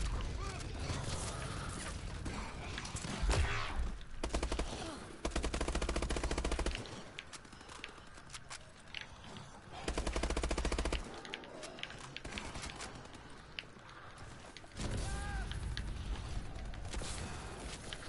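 Machine-gun fire in a video game rattles in several loud bursts separated by quieter stretches of game noise, with someone talking in between.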